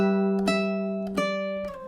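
A ukulele plays a short chord-melody passage of a few sustained, ringing chords, slowing down gently toward the end, with no voice.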